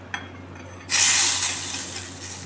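Hot tempering poured into rasam, giving a sudden loud hissing sizzle that starts abruptly and slowly fades, heard close with no talk.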